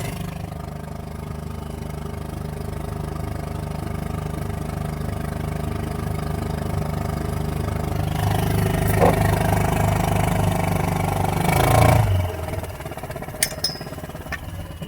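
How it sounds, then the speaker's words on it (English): An outboard motor pushes a newly launched boat along, its engine droning steadily up close and swelling louder for a few seconds before settling back, with faint clatters near the end. "I'm steering with my rudder. Motor's just pushing me along."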